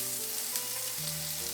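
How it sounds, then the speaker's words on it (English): Butter sizzles steadily in a pan heated to medium for a vegetable sandwich, a continuous close frying hiss with no voices over it. "Pan is hot at medium heat. Put some butter on it."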